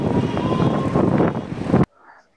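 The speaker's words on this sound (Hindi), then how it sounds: "कितनी मस्त हवा चल रही है" Loud, steady wind rushing across the microphone on the Ramban–Banihal route, then cutting off abruptly to near quiet.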